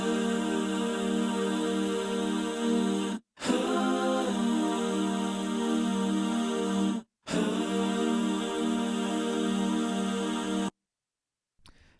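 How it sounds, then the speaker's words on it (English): Lush layered vocal ahs, twenty takes per part bounced into one, sustained as steady harmonic chords in three long phrases separated by short clean gaps, ending in near silence. "it just has this part where it's just like these very lush vocal ahs."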